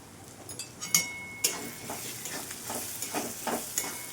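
Onion-garlic and black masala being stirred and fried for a dry village-style drumstick vegetable dish, with a gentle sizzle under repeated light scrapes and clinks of a spoon against the pan, close and steady.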